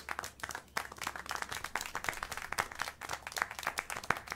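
Steady applause from a crowd in the video game Syberia: The World Before, many hands clapping in a dense, continuous patter at moderate distance.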